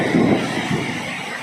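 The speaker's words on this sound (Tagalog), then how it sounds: "Sobrang lakas ng tubig na bumuhos ngayon." Heavy midnight rain and rushing water overflow a home emergency drainage and flood toward a garage: a loud, steady, close broadband rush with no speech.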